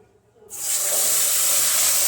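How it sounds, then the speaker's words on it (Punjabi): After a brief silence, a loud steady hiss bursts in and continues as water is poured into flour roasted in ghee in a hot pan, sizzling. "ਹੁਣ ਇਹਦੇ ਵਿੱਚ ਮੈਂ ਪਾਣੀ ਪਾ ਦਵਾਂਗੀ"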